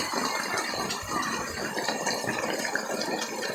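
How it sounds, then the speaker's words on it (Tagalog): Heavy rain pouring steadily at an outdoor vendor's stall, a dense continuous hiss with scattered pattering, even and unbroken throughout with no talking. "dahil ganyan po kalakas ang ulan dito mga lods"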